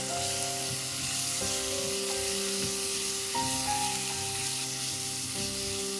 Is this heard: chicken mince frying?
yes